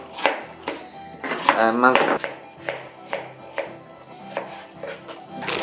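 A knife chops food for zambo de dulce, a sweet squash dish, with a steady run of crisp, close-up strokes on a board, and a voice speaks briefly partway through.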